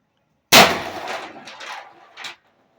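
A single sharp, loud shot from a Pistelle X68 pistol, converted from Gen 1 to Gen 2, cracks close by and rings out in a bright, metallic decay lasting nearly two seconds.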